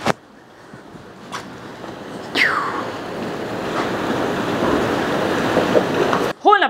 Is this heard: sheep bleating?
no